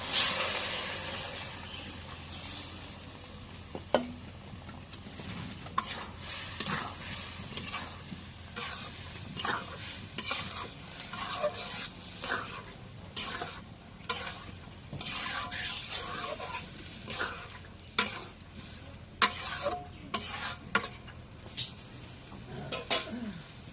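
Lentils with spice paste frying in a pan while stirred, part of cooking pangas fish with chana dal: a constant low sizzle broken by scattered scraping clicks of a spoon against the pot, no talk.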